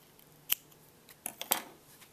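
Scissors snip through yarn during crochet work on a zebra-striped beanie: a single sharp close cut, then a quick cluster of two or three snips, quiet and isolated with no talking.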